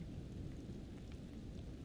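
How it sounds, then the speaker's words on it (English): Rain and a low rumble of thunder in the horror video game Little Hope, a brief dull steady wash of storm noise with no voices. "It's raining."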